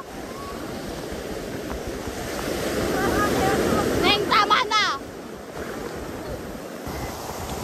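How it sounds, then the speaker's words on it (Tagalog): Ocean surf washing onto a beach with steady wind noise across the microphone, the wash swelling louder midway, while people shout and talk excitedly over it. "So ito, dito kami sa alon."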